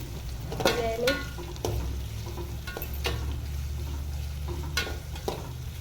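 Masale bhat rice fries in a pan under a soft, steady sizzle while a spoon stirs it in a few quiet, irregular scrapes and clinks.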